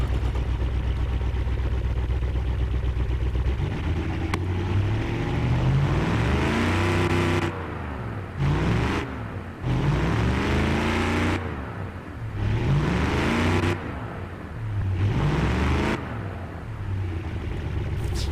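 A weak 180-horsepower car engine in Automation/BeamNG Drive idles, then revs in repeated rising bursts broken by short gaps, its thin droning tone climbing and falling with each pull, with no voices over it.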